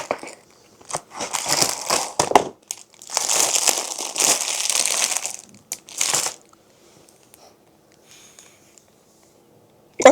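Plastic mystery bag torn open and handled, giving loud bursts of close crinkling and crushing over several seconds before trailing off into near silence.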